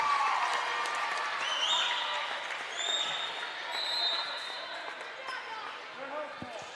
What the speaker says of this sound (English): The effort, though, of Westra catching some applause here in the Schaefer Center